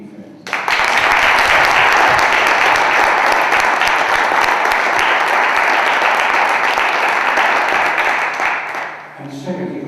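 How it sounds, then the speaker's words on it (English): An audience in a hall at a debate breaks into loud, sustained applause for the organizers, dense clapping that holds steady for several seconds before fading, with a voice starting up at the end. "first to give an applause for those who organized this whole event"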